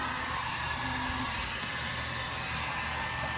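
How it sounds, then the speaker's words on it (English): A heat gun blows hot air in a steady, close, loud whoosh, used to warm a nitro engine before a break-in run, with no voices over it. "That's my heat gun"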